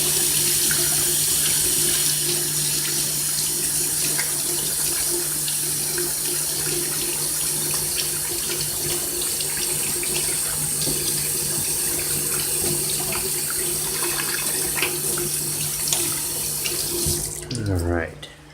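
A water tap runs steadily into a sink for washing, a loud continuous splashing rush with a faint hum beneath, ending abruptly as the flow is shut off.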